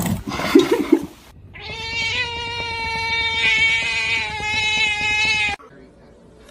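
A cat gives one long, loud, drawn-out meow close by, following a brief moment of a person talking, then it stops abruptly.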